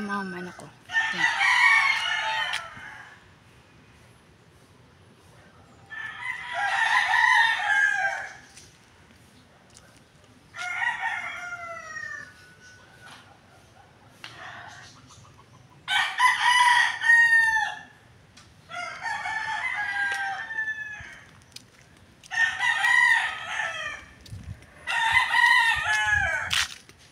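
Roosters crow repeatedly in the morning, six or seven long cock-a-doodle-doos spaced a few seconds apart, loud and close with quiet gaps between.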